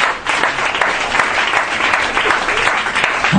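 A church congregation applauds and acclaims the Lord during a worship service, a dense, loud, continuous burst of clapping from many hands, steady throughout without voices.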